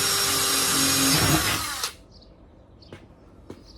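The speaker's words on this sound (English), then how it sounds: "Okay, now we can drill that out." A power drill bores a hole in a VW Beetle body panel for a passenger-side mirror, a loud, steady whine for about two seconds that stops abruptly, followed by a couple of faint clicks.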